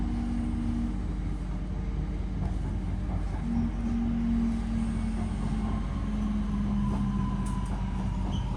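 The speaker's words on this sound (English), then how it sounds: "And we are now arriving into Poynton." A train pulls into Poynton station with a steady low rumble and faint clattering, while a thin motor whine rises and falls in pitch as it slows, all heard from the platform at moderate distance.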